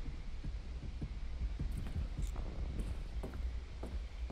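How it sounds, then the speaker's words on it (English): A Dead by Daylight match carries a repeated heartbeat warning as the chainsaw killer draws near. Soft, low thumps pulse at a steady rhythm over a constant hum, with faint clicks scattered on top. "I heard a heartbeat when I went that way."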